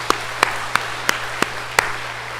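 A church congregation at a Sunday service claps in slow, sparse, evenly spaced beats, about six distinct claps over a low steady hum, moderately near.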